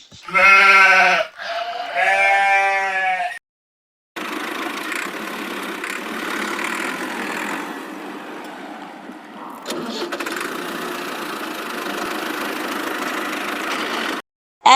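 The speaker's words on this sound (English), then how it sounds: "Sheep." Sheep bleating in a farm-animal sound sequence: two loud, close, wavering bleats in quick succession open the clip, followed by a steady broadband rumbling noise bed with a brief gap near the end.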